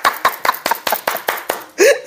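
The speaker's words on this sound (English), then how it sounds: "Let's clap it up." Hands clap in an even, brisk rhythm, about eight sharp claps close by, followed by a short vocal sound.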